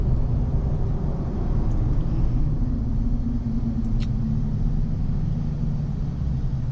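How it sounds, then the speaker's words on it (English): A 2024 Chevy Silverado ZR2 diesel pickup rolls along and slows under braking, a steady low engine and road rumble close by, with a faint brief squeak partway through and no talk. "Go ahead and test the brakes up here a little bit"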